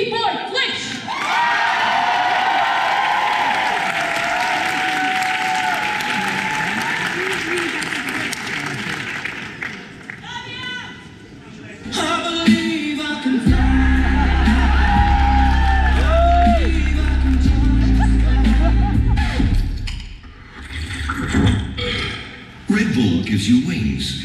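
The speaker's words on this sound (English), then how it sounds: "let's give a big, big, big, big, big round of applause for B-Boy Flitch" Loud crowd applause and cheering with whoops for breakdancer B-Boy Flitch at a dance contest, sustained throughout, dipping briefly near the middle before swelling again with a heavy low rumble underneath.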